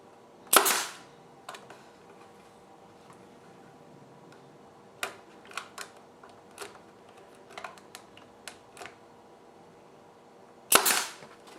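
Staple gun driving 1.5 inch staples into a wooden crossbar, a sharp snap near the start and another near the end, with light ticking and clicking handling noises between.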